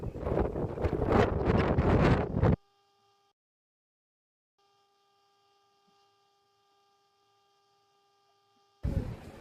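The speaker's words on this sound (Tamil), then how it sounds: "எந்த பக்கம் பார்த்தாலுமே காத்து வந்து பயங்கர பலமா அடிச்சிட்டு இருக்கு" Strong wind on the Shakotan coast of Hokkaido batters the microphone in loud, rough gusts, then drops out to near silence, and the gusts return at the very end.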